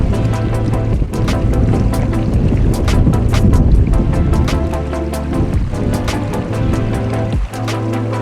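Strong gusting wind of about 20 miles an hour during a snowstorm while dry-fly fishing outdoors, loud roaring buffeting across the microphone throughout with scattered rattling and flapping, no speech.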